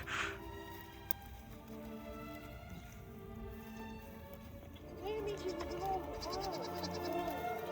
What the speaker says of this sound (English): got stormed by all of the goats